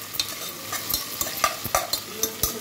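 Chopped onions frying in a pan for prawn biryani, a steady close sizzle broken by repeated scraping stir strokes of a spatula, with no one talking.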